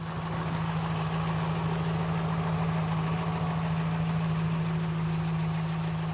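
A 1963 Chevrolet Impala engine idles steadily at close range, a constant low drone with a faint, light tapping running through it and no talk.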